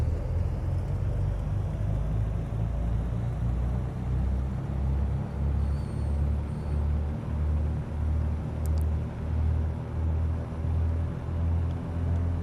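Cessna T207A Stationair engine throttling up in Microsoft Flight Simulator 2020, a steady, droning, low rumble that pulses slightly, heard alone throughout.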